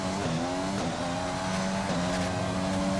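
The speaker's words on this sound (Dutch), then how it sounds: "Ik moet nu wel wennen aan het geluid van de motor. Het is nu een Honda motor, geen Ferrari of Mercedes motor." A Honda Formula 1 engine in the racing game F1 2020 drones loud and steady throughout, its pitch sweeping with shifts in revs and faint tyre noise, with no voice over it.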